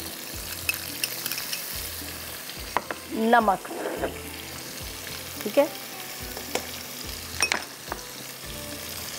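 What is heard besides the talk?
spices and ginger-garlic paste frying in a pan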